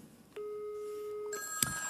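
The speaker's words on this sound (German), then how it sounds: "das Telefon klingelt jetzt bei Ihnen" A telephone rings at close range in a staged theatre play, giving a steady electronic tone followed by a brighter, louder ring toward the end.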